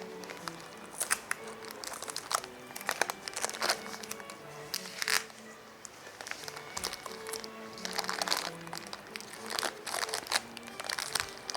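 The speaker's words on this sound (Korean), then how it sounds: "요 부분은 테이프로 한번 고정을 시켜주시는 게 좋아요" Tape and wrapping material crinkle and crunch while a flower bouquet is secured and wrapped, making close, irregular rustles and crackles throughout with brief pauses.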